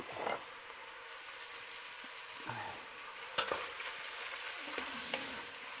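Beef for bœuf bourguignon sizzling and browning in a hot pan, a soft steady crackle with occasional sharper pops and scrapes, fairly quiet, no talking.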